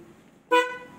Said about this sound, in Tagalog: Yung pot-pot, snail horn.